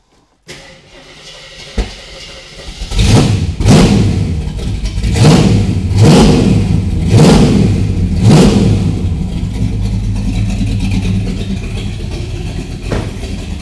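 A modified street car with a big cam and a lot of work done to it fires up and revs hard, five loud, rhythmic throttle blips rising over a lumpy idle, with the choppy engine staying close and loud throughout.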